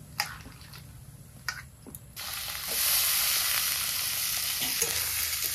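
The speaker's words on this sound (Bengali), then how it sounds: "আলু জিরে গরম তেলে ভাজা হয়ে গেছে। এখন এই সবজিগুলো এই গামলার জল থেকে ছেঁকে ছেঁকে দিয়ে দেবো।" Washed vegetables drop from a bowl of water into a pan of hot oil with potatoes and cumin, a few clinks giving way to a sudden loud, steady sizzle that continues to the end.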